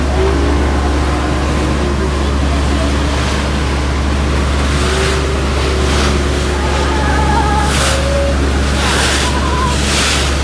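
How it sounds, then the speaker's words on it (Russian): Waves slap against a boat crossing the sea to Koh Samet island in Thailand, a loud continuous wash of water and surf over a low, steady engine drone. "Сейчас волны ударят."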